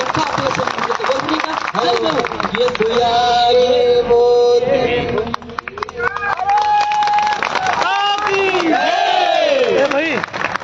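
Crowd of teachers at a mass protest rally on Azad Maidan, Mumbai, clapping and cheering loudly and continuously, with shouting voices, chanting and talk mixed through the din.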